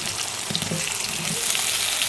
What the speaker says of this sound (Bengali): তো আলুটা একটু ভাজা হয়ে যাক